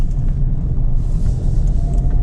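A car pulling away from a parking spot on a street, a loud, steady engine rumble from inside the vehicle that holds even through the short moment, with no speech.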